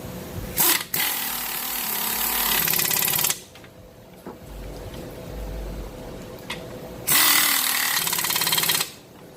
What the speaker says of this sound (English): So you want to go ahead and tighten back to your 18mm.